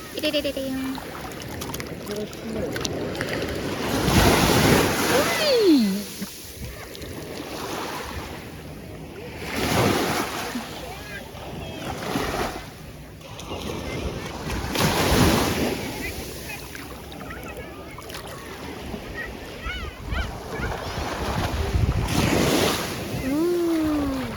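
Ocean waves surge and wash onto a black sand beach on Nusa Penida, Bali, in slow recurring swells with wind noise and occasional distant voices.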